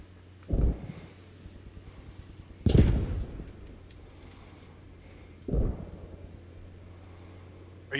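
Grenade explosions in the Post Scriptum war game, three sharp muffled blasts a few seconds apart, moderately distant and standing out against a quiet low ambient hum.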